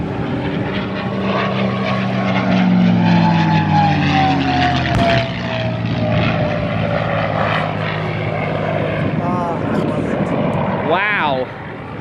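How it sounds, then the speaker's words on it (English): A P-51 Mustang roars past at an airshow during aerobatics, its propeller engine drone sweeping down in pitch as it passes, with a faint whistling from wind across the inside gun ports; a commentator talks over it. "Now you may hear a little bit of singing coming off the airplane. That's the wind on the inside gun ports."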